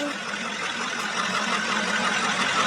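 A toy truck engine runs steadily in a cartoon scene, a continuous mid-pitched idling rumble with a faint knocking texture, close and even throughout with no talk.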